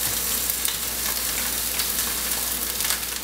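Rainbow trout sizzling on a grill, a steady close frying hiss with soft crackles throughout, no talking.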